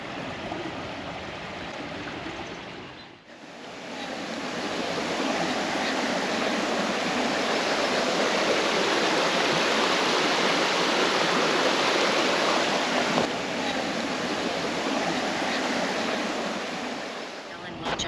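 A loud, constant roar of water rushing down a salmon fish ladder, broad and unbroken, with a brief dip early on before the torrent steadies again.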